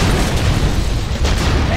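A V3 rocket launches in Red Alert 2: Yuri's Revenge with a loud, sustained, low booming roar and rushing noise that holds steady for the whole moment, with no clear voice over it.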